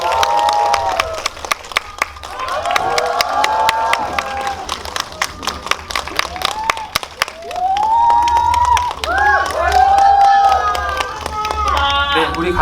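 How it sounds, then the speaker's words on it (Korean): Cinema audience at a film guest-visit event in Lotte Cinema World Tower claps and cheers as the actors come out, with sharp scattered claps over excited voices and shrieks that rise in the second half. "박수로 맞이해 주십시오"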